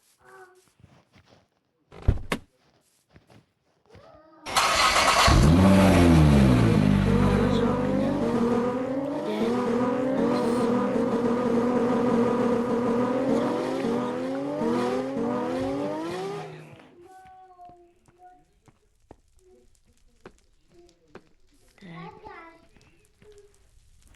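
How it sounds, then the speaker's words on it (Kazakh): A car drives and revs in the video game Minecraft, with a loud engine roar that rises and sweeps for about twelve seconds before cutting off; faint talk is heard around it. "мен машинаны кіргізейін"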